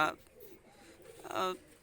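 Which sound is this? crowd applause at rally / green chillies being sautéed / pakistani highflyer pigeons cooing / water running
pakistani highflyer pigeons cooing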